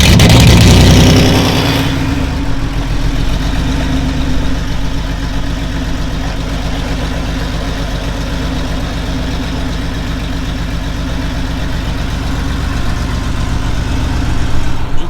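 A Porsche 911 with a full exhaust and its exhaust valves closed starts with a loud burst, then settles into a steady, deep, close idle that holds throughout.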